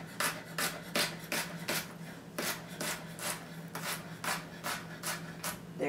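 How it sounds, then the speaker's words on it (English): A knife slices a round vegetable into uniform slices on a cutting board, with about a dozen crisp, evenly spaced cutting strokes close by over a steady low hum. "We just take and cut nice, uniform slices."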